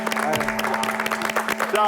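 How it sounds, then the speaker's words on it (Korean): Studio audience applause on a Korean TV talk show, a brief burst of brisk clapping over a steady sustained tone, with voices present. "저희가 박수를 한번 청해 듣겠습니다"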